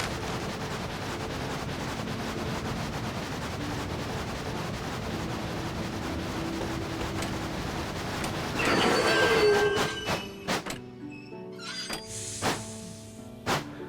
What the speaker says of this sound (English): I just stopped the train really abruptly.